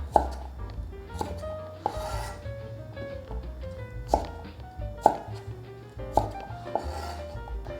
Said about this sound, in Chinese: 把芦笋斜切成段状，